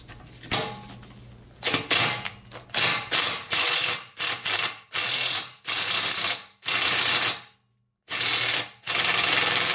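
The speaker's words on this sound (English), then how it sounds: "I just modified a chisel to that shape and 10mm socket, and hopefully it will spin it right out" A ratchet fitted with a 10mm socket and a modified chisel-shaped bit clicks in quick repeated bursts as it spins a staked plug out of an engine block, loud and close with short pauses between strokes.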